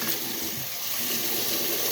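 Water running steadily from a tap to rinse the face after a facial cleanse, a continuous close hiss and splash.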